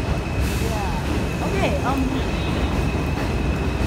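An NYC subway train at Coney Island station on a rainy day gives a steady, loud rumble with faint squealing tones, while people talk briefly over it.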